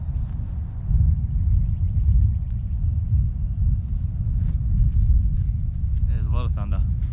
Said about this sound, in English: So there's a storm coming, you can hear it, there's thunder.